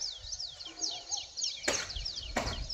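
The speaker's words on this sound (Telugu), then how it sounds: "మీకు చుట్టుపక్కల పక్షులు, కోళ్ళ సౌండ్స్ ఇవే వినిపిస్తాయి" Small birds chirp repeatedly around a village at sunrise, with quick descending tweets running through the clip and two sharp louder sounds nearby cutting in over the calls.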